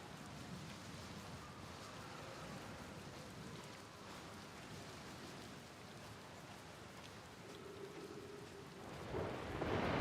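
A thunderstorm in the Outer Wilds video game: steady rain hiss with low rolling thunder rumbling throughout, and a louder crack of lightning building near the end, with no voices.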